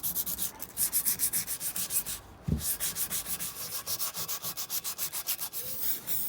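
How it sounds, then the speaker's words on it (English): Hand sanding rust off the edges of a brake disc on a Ford Focus ST170 restoration, quick rhythmic back-and-forth scraping strokes close up, with a brief pause midway before the strokes resume. "we're just going to very carefully go around the edges and on any bits that are rusty"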